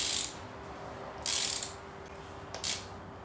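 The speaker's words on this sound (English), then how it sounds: "undo the four bolts here. And there's one hiding back here." A ratchet loosens intake bolts on the 3800 engine of a Pontiac Fiero in three short, close clicking bursts over a steady low background hum.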